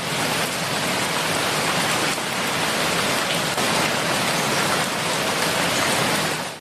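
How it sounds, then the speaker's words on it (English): Steady, dense rainfall pours down continuously, a broad hissing wash with faint patters of drops hitting surfaces. "it rained."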